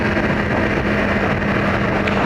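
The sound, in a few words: Yamaha R1 motorcycle being ridden at speed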